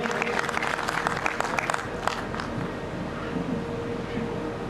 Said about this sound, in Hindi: जोरदार तालियां इनके सम्मान में बजनी चाहिए।